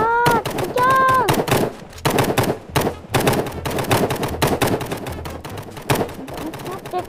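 Rapid, dense bursts of gunfire from the online multiplayer shooter Hide Online, with machine-gun-like volleys and single shots crackling continuously at close range, while a voice talks briefly near the start.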